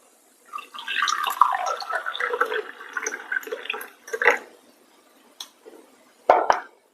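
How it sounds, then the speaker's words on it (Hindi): Hot water poured into a glass for a mixed fruit juice, a continuous splashing pour lasting several seconds with a brief pause, then two short final splashes, close and alone. "गिलास में गर्म पानी ऐड करते हैं।"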